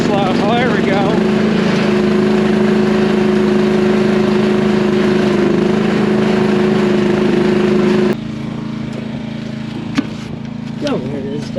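The engine of a cheap mini excavator drones loud and close with a steady hum that holds with the throttle turned up, then drops to a lower idle after about eight seconds, with a few clanks over the running engine.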